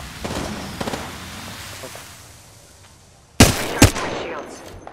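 Gunfire in Apex Legends on the Kings Canyon map: two sharp, loud shots ring out close together near the end, after a stretch of quieter game ambience with faint distant pops.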